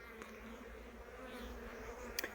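Honeybees buzzing around a beehive where syrup feed has been placed, a steady faint hum running throughout with a couple of brief sharper buzzes near the end.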